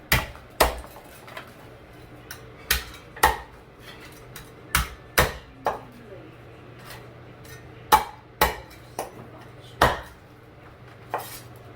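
A knife chops food on a cutting board, likely while preparing a Chinese New Year dinner: a brisk, irregular run of sharp, close knocks, roughly fifteen in all, against a quiet background with a faint steady hum.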